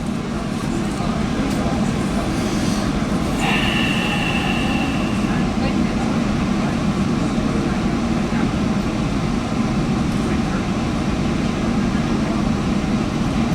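Steady low rumble of a passenger train hauled by an EMD F40 diesel locomotive on South Coast Rail near Fall River, heard from inside the coach for the whole stretch, with a brief higher whine partway through.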